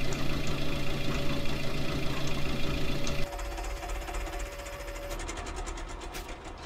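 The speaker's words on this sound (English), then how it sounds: "jump aboard this tractor" A farm tractor's engine idles in a steady, dense mechanical drone with rapid knocking texture, loud at first and then dropping somewhat in level partway through, with no talk.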